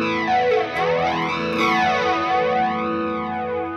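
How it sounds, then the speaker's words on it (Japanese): Distorted electric guitar chords with a sweeping jet flanger, a whooshing, swirling tone that rises and falls in slow waves, loud and continuous. "このジェットエフェクトなんて呼ばれることもあるこのサウンド"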